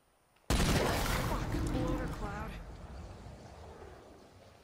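Pistol fire in the video game State of Decay 2: a sudden loud shot burst at the start with a long echoing decay, voices mixed in the game audio.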